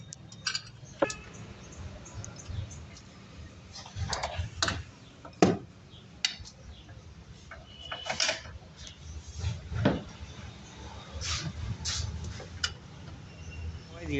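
Spare tyre being refitted and tightened on a Reva electric car: scattered metallic clicks, taps and ratcheting knocks at an irregular pace, close by, with faint background noise and no clear talking.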